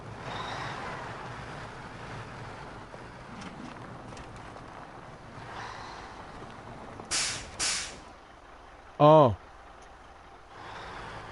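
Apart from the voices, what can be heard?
truck air brakes in the video game Snowrunner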